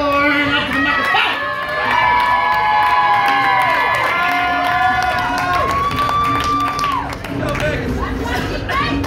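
A large crowd at a team poetry slam final cheers and claps continuously, loud and sustained, with shouts rising above the applause and a tonal sound sliding through it.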